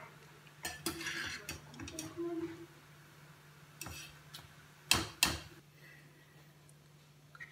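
Boiled cauliflower is moved from a pot onto a separate plate, giving scattered soft clinks and scrapes of a utensil against dishware over a low steady hum, with a couple of sharper knocks near the end.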